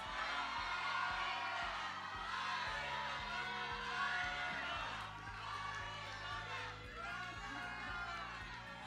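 A pageant crowd at the Miss Eco and Miss Eco Teen USA event cheers and screams in a continuous, distant roar, with voices mixed in and steady thumping beneath.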